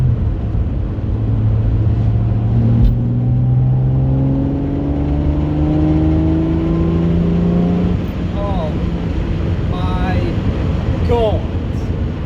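A Jaguar E-Type Reborn classic sports car revs hard and then blips the throttle on a downshift from fourth to third, with rising engine tones, a brief lift and a sharp blip near the end, heard close over a voice.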